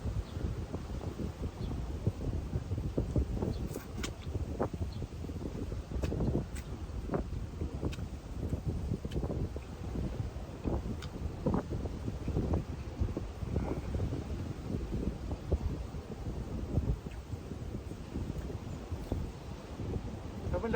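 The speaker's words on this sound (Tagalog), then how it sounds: "Sabi lakas yata ng hangin." Strong wind buffets a phone microphone outdoors by the sea in the Philippine countryside, a continuous low rumbling roar with gusty bursts lasting throughout.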